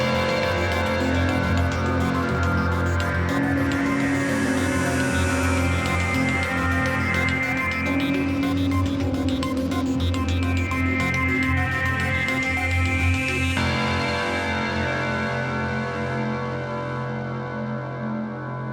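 Full layered arrangement from Heavyocity's Mosaic Leads synth: pads, bell tones and lead lines play together in a dense, steady wash for about fourteen seconds, then the upper layers drop away and a softer tail fades out, with no voices.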